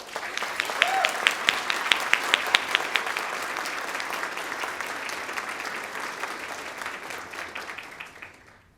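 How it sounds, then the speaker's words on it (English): An audience at a Teacher of the Year ceremony gives a sustained round of applause for ROTC and chorus performances, dense clapping with a few sharp nearby claps early on, fading out at the end. "Another round of applause for them, please."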